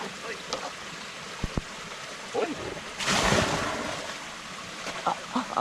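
A basin of rinse water from doing laundry in a stream on a Philippine pig farm is dumped out in one brief, close splashing gush, amid quiet outdoor ambience and conversation.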